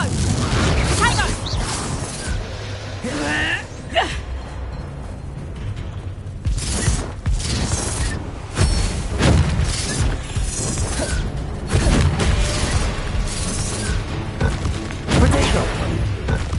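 Confringo and Bombarda spells go off in Hogwarts Legacy combat, a continuous run of booms, cracks and shattering bursts under game music and spoken incantations.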